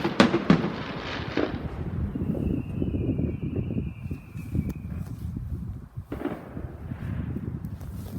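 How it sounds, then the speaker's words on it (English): Fireworks exploding outdoors in a steady run of booms and crackling bursts, loud and close, with a thin high whistle rising through the middle of the barrage. "We're at part 4 and watching fireworks."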